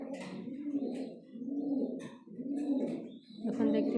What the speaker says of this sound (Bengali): দেখেন সবাই দেখতেই পাচ্ছেন আমাদের কবুতরগুলো কী কবুতর আছে আমাদের ছোট্ট একটা ফার্মে।